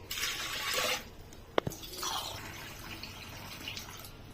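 Water splashes and pours briefly into a pressure cooker with lentils for gongura dal, followed by a sharp clink and faint trickling and dripping in a quiet room.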